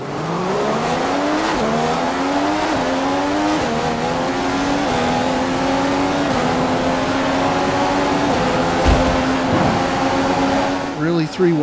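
Race cars in a racing video game roar off the start at the Russia round of a championship season, a loud dense pack of engines climbing through gears with rising and stepping pitch, steady throughout.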